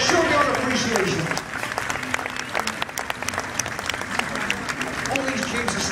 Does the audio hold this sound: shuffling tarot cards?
no